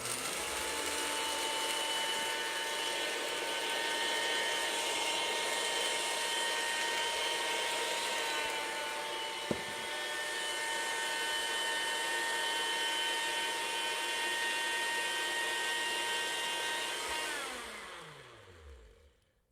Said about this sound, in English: I'm using the grinder part of my NutriBullet.